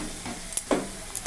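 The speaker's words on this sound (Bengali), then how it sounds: "নেড়ে নিয়েছি, একটু ভাজা ভাজা হচ্ছে।" Spinach stems stirred in hot fish oil in a pan, with faint ongoing sizzle broken by a few short scraping stir strokes, close and quiet, with no talking.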